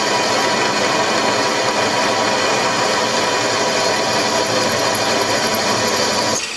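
A 6.8 mm tapping drill boring a hole for an M8 thread in a mini lathe headstock, a steady loud motor whine with no speech, stopping abruptly near the end.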